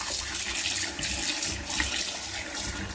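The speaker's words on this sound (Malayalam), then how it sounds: "ഇനി നമ്മൾ വെള്ളം ഒഴിച്ച് മാറ്റി വയ്ക്കാൻ പോവാണ്." Tap water runs and splashes steadily into a sink while raw chicken is rinsed, a continuous bright gush at moderate level with no voices.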